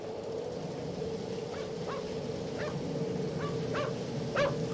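Faint, distant dog barks repeat at a steady pace, roughly one every three-quarters of a second, over a constant low hum with no voices.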